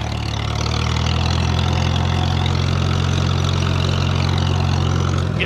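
A Farmall 300 tractor engine runs steadily on a steep muddy trail, a continuous low, throbbing idle with a even rhythmic chug, close and unbroken throughout.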